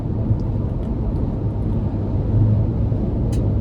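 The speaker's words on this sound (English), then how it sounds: "road noise a little prevalent, obviously, with these off-road tires" Steady low road and wind noise inside a 2025 Ford Ranger Raptor on off-road tires, a continuous dull rumble while driving, with no talking.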